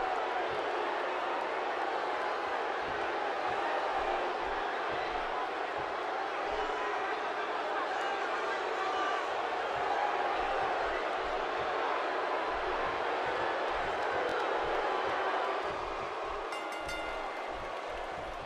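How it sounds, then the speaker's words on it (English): A steady, dense arena crowd roar from the WWE 2K17 video game fills a tag team championship match between The Wyatt Family and the Brothers of Destruction, holding at an even, loud level throughout with no clear individual voices. "Wow, this amazing crowd is in for one hell of a match."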